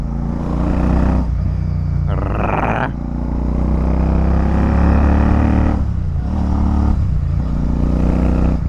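Royal Enfield Super Meteor 650 cruiser motorcycle engine running steadily and loud and close throughout, with brief throttle changes and a short clatter near the middle.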